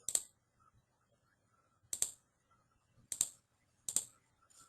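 Four crisp clicks from a computer mouse or keyboard, spaced about a second apart, close and fairly quiet against a near-silent background.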